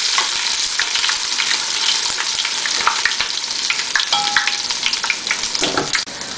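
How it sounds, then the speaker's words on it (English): Ginger, whole garam masala pieces and salt frying in hot oil in a pan, a loud, dense, continuous sizzle with busy crackling throughout and a few stirring scrapes near the end, no talking. "Heat up your pan with some oil and we'll add the ginger, the garam masala pieces and the salt,"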